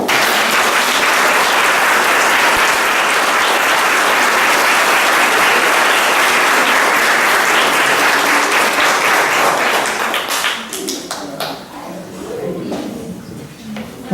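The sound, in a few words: applause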